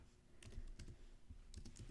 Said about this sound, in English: So you can come over and type a little bit of text.